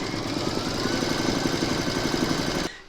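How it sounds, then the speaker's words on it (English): An embroidery machine stitches round six of a zipper-top glasses case in its hoop, a steady, rapid mechanical whirr and needle chatter at close range that cuts off abruptly just before the end. "Pop your hoop into your machine and stitch round number 6"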